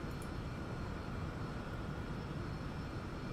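A big jet airliner engine in the X-Plane flight simulator gives a steady, even, broadband roar that holds unchanged throughout, fairly quiet, with no talking.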